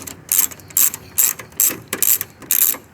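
A hand ratchet works on 10mm bolts in the engine bay of a 2007 Toyota Tundra, with crisp, loud rapid clicking bursts repeating about every half second in short strokes.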